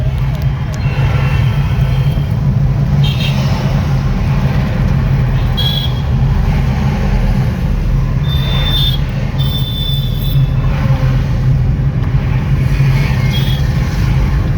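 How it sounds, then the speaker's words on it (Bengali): Heavy road traffic of cars, trucks and autos on an Indian highway, a dense continuous rumble of engines close by with scattered horn toots over it. "তবে এখন প্রচুর ট্রাফিক।"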